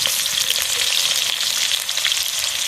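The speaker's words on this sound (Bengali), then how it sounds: "পেঁয়াজ রসুন লঙ্কা একসাথে ভালোভাবে ভেজে নেব।" Onion, garlic and green chili frying in a pan give a steady, loud sizzle that holds without a break, with no voices over it.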